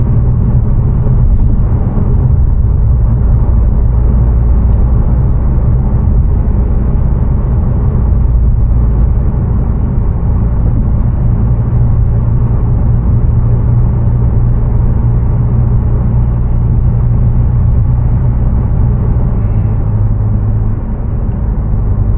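A Mazda 3 Turbo fitted with a Corksport downpipe cruises at about 60 mph, heard from inside as a steady, loud low engine drone and road rumble that hold evenly throughout.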